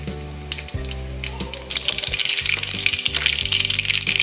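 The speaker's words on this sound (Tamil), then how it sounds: "இப்போ கடுகு உளுந்தம் பருப்பு போட்டுக்கலாம்." Mustard seeds and urad dal fry in ghee and oil, giving a close, steady sizzle with scattered crackling pops and no talk.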